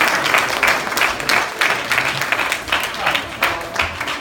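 An audience at an award ceremony claps in sustained applause, a dense steady patter that rises and falls slightly, with a voice faintly mixed in.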